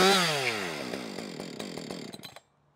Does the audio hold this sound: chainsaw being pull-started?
yes